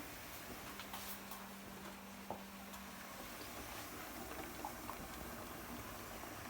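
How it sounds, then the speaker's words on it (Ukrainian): Faint, steady bubbling and hissing of water boiling in a pot for pickling cucumbers, continuous with a few small clicks, no voices. "в мене кипить водичка"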